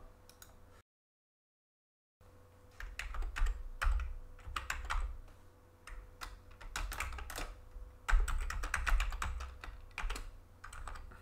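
Rapid, uneven keystrokes clatter on an Amiga 1200 keyboard as an email is typed, with the clicks coming in bursts and short pauses, close and fairly quiet.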